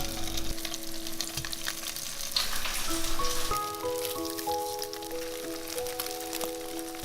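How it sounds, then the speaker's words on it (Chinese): Slices of canned luncheon meat fry in a lightly oiled flat pan, giving a steady close crackling sizzle throughout, with soft tonal background music underneath. "油温热了，把午餐肉放进来煎。"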